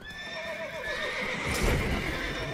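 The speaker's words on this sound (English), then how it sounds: "What's got into the horses all of a sudden?" Horses in The Wild Hunt (The Witcher 3) let out repeated whinnies and neighs over a low game ambience, with a brief scuffle of hooves near the middle.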